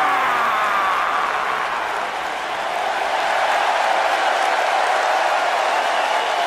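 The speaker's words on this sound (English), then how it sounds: "Clap for your longest reigning tag champs and feel the power!" Steady, dense crowd applause from a WWE SmackDown Live arena in a wrestling video game, a loud continuous wash of clapping and cheering that holds evenly throughout with no voices on top.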